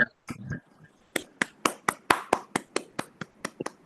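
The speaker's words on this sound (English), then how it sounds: "can I request everyone to unmute and give a big round of applause for our mental health rock stars" Webinar participants clap as a sparse, uneven round of applause, with about a dozen distinct sharp claps spaced out over a few seconds and a brief voice at the start.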